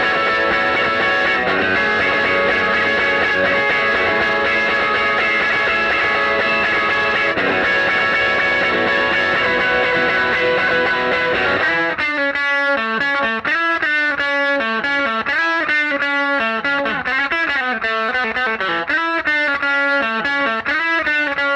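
An electric guitar with distortion and chorus effects plays a solo from a song, starting with a dense sustained wash, then moving into clear bending and sliding high notes, loud and close.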